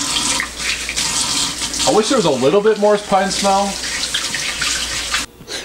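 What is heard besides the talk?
shower water running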